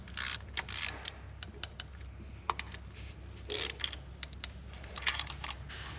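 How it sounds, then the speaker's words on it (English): A torque wrench tightening a diesel injector on a 2.0L VW Passat to 10 Nm gives a close run of sharp, quick ratcheting clicks in short irregular bursts, with no talking. "Now I torque down to 10 Newton meter."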